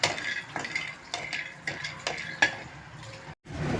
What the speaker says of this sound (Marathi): तर काजू आणि बदाम भाजून घेते.